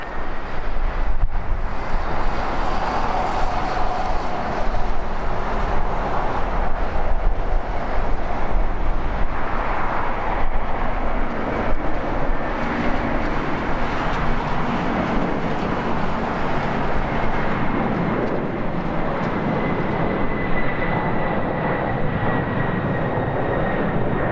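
A Western Global heavy jet takes off from the runway with a sustained, loud engine roar that rumbles on steadily, with wind buffeting the microphone.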